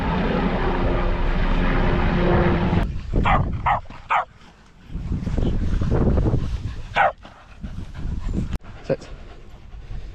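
Several dogs out on a walk pant and give a few short barks nearby, with an aircraft droning overhead at first and people talking in between.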